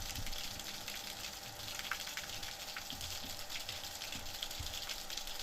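Water gushing steadily from a repaired village spring in Hüsülü, a continuous broadband splash with small droplet spatters, close and fairly loud, with no voices.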